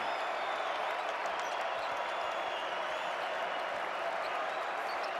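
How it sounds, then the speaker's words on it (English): Basketball arena crowd at a college men's game, North Carolina against Syracuse, cheering and applauding in a steady, dense roar that holds at an even level throughout without letting up. "Crowd getting behind it."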